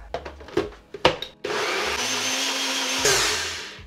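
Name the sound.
blender mixing recipe ingredients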